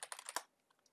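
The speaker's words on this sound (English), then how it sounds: "And now we're going to type in our password." Quick bursts of keystrokes on a computer keyboard as a password is typed, about five rapid close taps followed by a couple of faint later clicks, quiet and with no voices.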